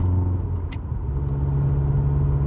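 A Subaru Forester STI drives at low speed with a steady, close engine rumble and a low road drone, even and unbroken, with no one talking.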